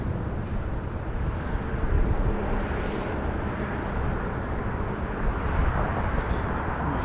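Boeing 737-800 airliner bound for Yantai at Incheon airport, South Korea, a steady broadband jet engine roar that holds loud and fairly even throughout, swelling slightly at moments, with no talk over it.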